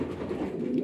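Racing pigeons in a breeding loft, paired for the season, coo softly and continuously at close range, a low murmuring chorus without talk.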